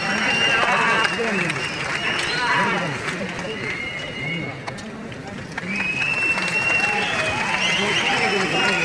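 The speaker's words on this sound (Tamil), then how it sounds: "உங்களின் பலத்த கைத்தட்டலோடு அடுத்ததாக திரு கார்த்திகேயன் அவர்களுக்கு மாண்புமை வேந்தர் ஐயா அவர்கள் நினைவு பரிசு வழங்கி சிறப்பிக்க இருக்கிறார்கள்" Audience applause at an award ceremony, a steady wash of clapping from a large crowd that lasts through the stretch, with a slight dip midway and a stage announcer speaking over it.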